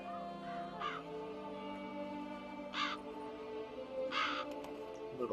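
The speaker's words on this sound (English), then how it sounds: "Crows, huh?" Crows cawing in the video game Witcher 3 Blood and Wine, three separate harsh caws spaced a couple of seconds apart over a steady musical and ambient bed, moderately near, no speech.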